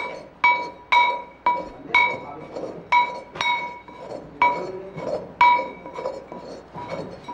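Metal pounding with sharp ringing clinks struck in an irregular rhythm, roughly a dozen close, loud hits over several seconds, each leaving a brief metallic ring, in a traditional bhasma-making setting.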